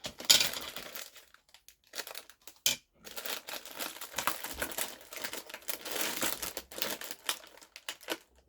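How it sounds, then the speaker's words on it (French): Crinkly plastic rustling and scissors snipping open a snack packet, close up, in irregular bursts with brief pauses between them. "Hop, je vais prendre mes ciseaux."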